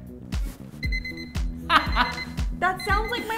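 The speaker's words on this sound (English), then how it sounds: "That sounds like my alarm when I wake up in the morning" An alarm-like electronic pattern plays, with repeated bright beeping tones over regular low thumps. It is moderately loud, and people talk over it.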